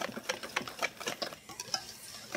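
Salt and sugar stirred together in a bowl for banana fritter batter, heard as a quick series of light, close clinks and scrapes in an even rhythm, quiet and with no talking.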